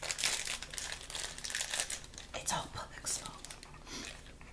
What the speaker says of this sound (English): If you hear any crinkling aside from what I'm doing, it's Puppet getting comfortable over there on a piece of paper.